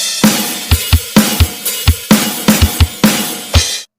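Drum kit pattern at standard tempo with snare and open hi-hat struck together alongside kick hits, about a dozen sharp, close strokes in a steady rhythm, with each open hi-hat hiss ringing briefly before cutting off at the end.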